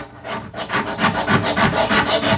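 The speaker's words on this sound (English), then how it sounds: "It's gonna take a little bit of scraping." Paint being scraped off a wooden window sash during a barn window rehab, a steady run of rough rhythmic scraping strokes, close and fairly loud, with no talk.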